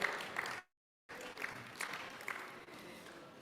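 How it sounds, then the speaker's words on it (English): Conference audience applause, moderate and somewhat distant, breaks off in a brief dropout of silence and then resumes, thinning as it goes on. "Another round of applause."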